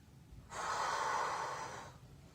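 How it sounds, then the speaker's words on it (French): A single long, audible inhale through the nose during a leg stretch in a thighs and glutes workout, close and breathy, lasting about a second and a half against quiet room tone. "J'inspire sur l'étirement."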